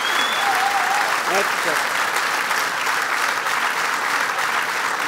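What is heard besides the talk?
studio audience applause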